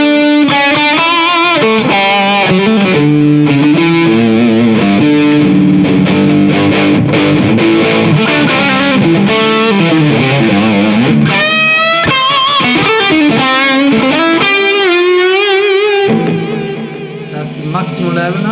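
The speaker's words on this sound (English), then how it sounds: "we play with the drive to see the kind of distortion based sound we have." Electric guitar played through a Ratin Blue Angel distortion pedal with tone fully open and drive raised, loud sustained crunchy riffs and bends that fade at the end.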